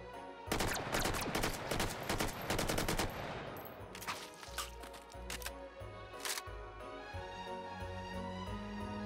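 Rapid gunfire in the VR shooting game Hot Dogs, Horseshoes & Hand Grenades, a fast automatic burst for about three seconds followed by scattered single shots and a few more bursts, close and loud.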